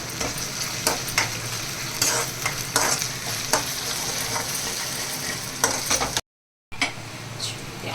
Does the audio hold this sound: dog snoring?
no